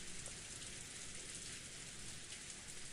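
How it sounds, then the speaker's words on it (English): Heavy rain pours steadily in a video game scene, a dense, even hiss of falling water that holds at a constant level throughout with no voices. "It feels like the rain's gotten a little lighter. Ew! Still pouring down."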